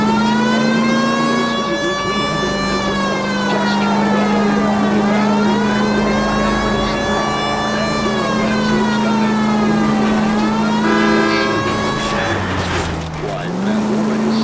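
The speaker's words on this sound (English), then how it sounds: "If you use the siren," A police car siren from the video game L.A. Noire wails loudly and steadily throughout, rising and falling in long sweeps over a running engine, with a voice talking over it near the end.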